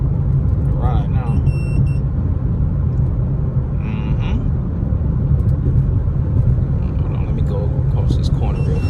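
Steady, loud road rumble from inside a car driving on Georgia roads, a vehicle that has a P0420 check engine fault, with someone talking over the continuous engine and tyre drone.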